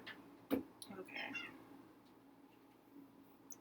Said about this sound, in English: That's my cat complaining in the background.